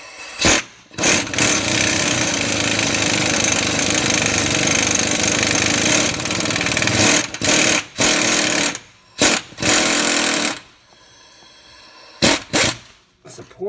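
A puller pressing a part off the crankshaft of a 2011-2016 Ford F-150 3.5L EcoBoost, likely driven by a rattling impact tool in long loud bursts broken by short pauses and quick stuttering hits.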